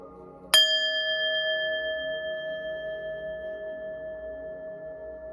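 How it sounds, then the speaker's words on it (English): A single bell is struck once, ringing out with a clear bright tone that lingers and slowly fades over several seconds in a quiet room. "I'm going to ring the bell"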